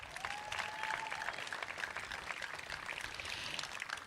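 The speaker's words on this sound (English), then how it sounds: "Let's give them a round of applause." Audience applause at a community event for National Gun Violence Awareness Day in Long Beach, a steady wash of many clapping hands, fairly faint and distant, sustained throughout with a brief tone early on.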